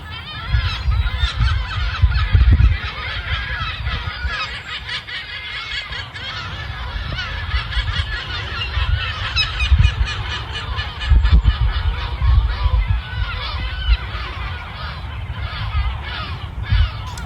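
A morning chorus of seagulls calling, a dense overlapping mix of honking and squawking cries from several birds, loud and continuous throughout.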